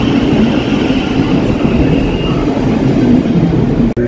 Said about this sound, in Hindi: और ये हमारी ट्रेन आई विंबलडन वाली